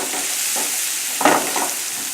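Minced garlic fries in butter over a high flame with a steady close hiss, and a brief clatter of stirring midway, no talk.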